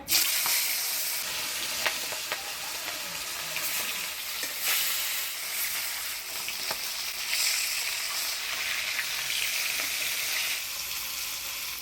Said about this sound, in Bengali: মাছগুলো ভাজি নিব তিল গরম হয়ে গেছে মাছগুলো ভাজি নিব